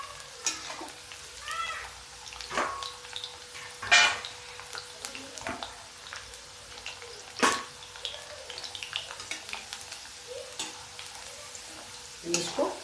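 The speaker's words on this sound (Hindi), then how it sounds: "इसको बिल्कुल हम गुलाबी गुलाबी फ्राई करेंगे।" Potatoes deep frying in oil for corn chaat give a low, steady bubbling sizzle with scattered clinks and pops, fairly quiet and continuous.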